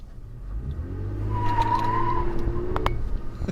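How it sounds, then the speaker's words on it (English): A third-generation Toyota Tacoma spins its wheels with a rising engine rev and a sustained tire squeal building over a couple of seconds, loud and close, ending in a few sharp knocks. "Ooh, wheel spin!"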